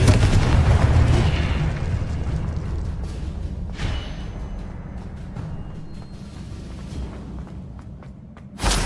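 In the Hogwarts Legacy game, a Confringo blasting spell sets off explosions. A heavy rumbling burst opens the clip and decays into a low roar, with sharper booms and crackles following and another blast at the very end.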